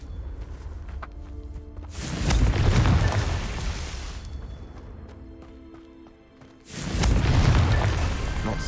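Confringo blasting spell going off in a wizard video game: two deep, booming explosions a few seconds apart, each loud and rumbling before slowly fading.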